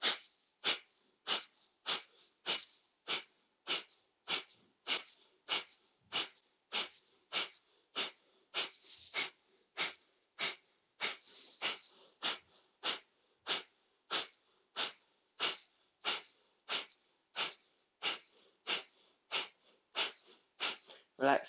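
Slow, steady breaths in and out during a stretching exercise, a regular series of about thirty close, airy puffs evenly spaced with no talking.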